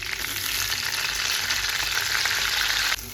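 Curry leaves and green chili sizzle in hot oil in a home kitchen while soybean bhaji is prepared, a loud, steady crackling fry that keeps going for about three seconds and then drops off sharply near the end.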